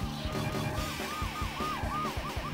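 An ambulance siren from a Gaelco arcade video game wails in a rapid repeating up-and-down pattern over the game's steady, thumping music, loud and continuous.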